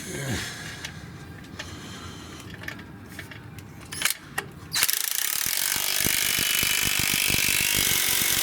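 A Ryobi power ratchet snugs up clutch bolts, first in scattered short bursts and clicks, then in a long, loud run of rapid ratcheting clatter up close, with a voice speaking briefly.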